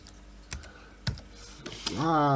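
Keys clack in a few sharp, sparse taps on an IBM Thinkpad 240 laptop keyboard, followed by a voice speaking at the end.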